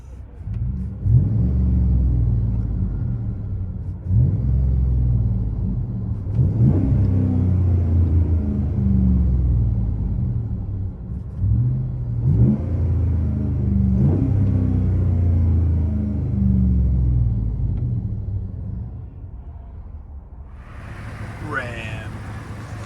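A 2012 Ram 1500 with a 5.7L HEMI V8 and 14-inch Magnaflow dual exhausts rumbles deep and loud, with repeated throttle blips rising and settling over a steady idle, heard close by.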